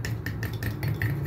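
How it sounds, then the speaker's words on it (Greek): A spoon stirs a magnesium and B6 vitamin drink in a glass, a run of quick, light, evenly spaced clinks against the sides, close up and alone. "ανακατεύουμε"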